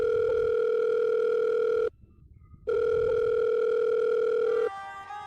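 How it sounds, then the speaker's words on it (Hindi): Telephone ringback tone on an unanswered call, a loud steady electronic tone that runs for almost two seconds, cuts out briefly, then resumes before giving way to a fainter, thinner tone. "काफ़ी देर तक फ़ोन की डायल टोन जाती है।"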